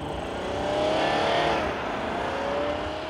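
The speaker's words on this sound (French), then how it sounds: "la sonorité du V6 diesel, trop présente à mon goût dans l'habitacle, un petit peu rugueux" Audi Q8 with a V6 diesel engine, heard from inside the cabin as a steady, slightly rough drone that swells briefly and settles, with no talk.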